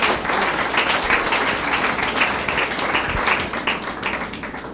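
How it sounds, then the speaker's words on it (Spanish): A church congregation applauds during a Spanish-language sermon, dense sustained clapping from many hands filling the room, loud and steady before tapering slightly at the end. "Dé un aplauso al Señor Jesús."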